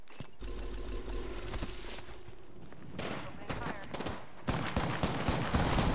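Gunfire in a video game firefight, dense bursts of rapid automatic shots and booming blasts filling the scene continuously, loud and sustained, with voices talking at times.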